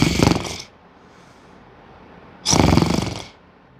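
Two loud snores come several seconds apart, each a rough, rattling breath in a slow sleeping rhythm with quiet between them.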